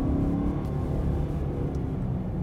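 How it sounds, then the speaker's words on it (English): A 2021 Ford Explorer Limited Hybrid's engine drones steadily from inside the cabin while driving, a loud, continuous low rumble with no talking. "This is a pretty cool engine"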